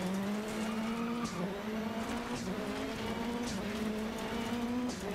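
A rallycross supercar in the racing game Dirt Rally 2.0 accelerates hard out of a corner, its engine rising through quick gear shifts, with tire noise under a loud continuous engine drone.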